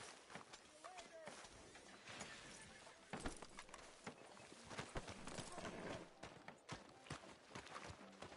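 Hooves of a horse in Red Dead Redemption 2 clip-clop in quick, uneven beats at a run, under a steady stream of voices speaking over the top.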